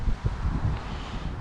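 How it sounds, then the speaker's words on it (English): Gusty wind buffets the microphone, producing low rumbling thumps and a steady rushing noise with no voices. "It's quite windy"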